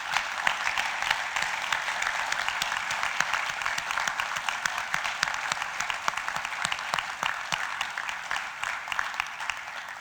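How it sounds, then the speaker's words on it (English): Audience applauding honored educators at a hall of fame ceremony, dense sustained clapping from a large crowd throughout, gradually easing off. "Let's give them one more round of applause."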